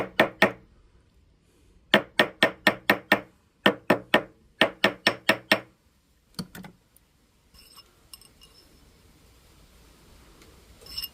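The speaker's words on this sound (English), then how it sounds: "Let's grab our ball peen hammer now. And we're only going to tap on the bottom." A ball peen hammer taps the bottom of a man's white gold ring during sizing, striking in quick bursts of three to five sharp metallic taps separated by pauses, close and crisp, followed by faint handling noise.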